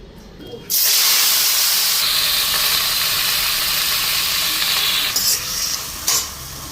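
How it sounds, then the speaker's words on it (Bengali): Bottle gourd leaves and turmeric hit hot oil with a sudden loud, steady sizzle that stays bright and close, with small stirring changes near the end. "লাউ পাতাটা এখন দিয়ে আনি একটু হলুদ দিয়ে আনি তেলটার মধ্যে"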